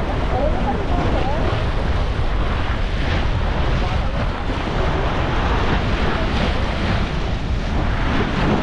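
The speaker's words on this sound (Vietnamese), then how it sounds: "Trời, nay biển động dữ à." Rough sea waves on a beach at Ba Tri, a continuous loud roar of surf with heavy wind buffeting the microphone throughout, no distinct breaks.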